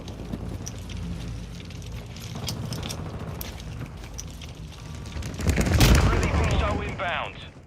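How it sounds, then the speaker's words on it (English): In a military video game, a hostile mortar strike brings rattling gunfire and a rumbling blast that swells near the end, all over steady wind-like background noise. "Hostile mortar strike incoming."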